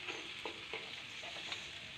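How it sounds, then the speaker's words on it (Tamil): Chopped tomatoes sauté in a pan for a country chicken gravy, giving a faint, steady sizzle broken by light stirring scrapes. "வெட்டி வச்சுருக்கிற 3 தக்காளியும் சேர்த்துக்கலாம்."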